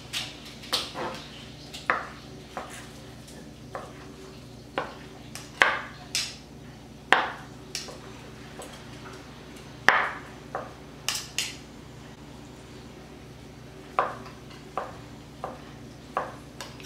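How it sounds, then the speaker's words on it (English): A knife chops chicken tenderloins into bite-sized pieces on a cutting board in a home kitchen, with steady, fairly quiet taps and clicks coming at an irregular, unhurried rhythm. "I'll cut them into bite-sized pieces and then place it in my frying pan"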